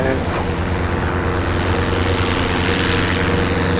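A small propeller airplane accelerates down a runway for takeoff, its engine droning loud and steady with a strong low rumble and rising tone throughout.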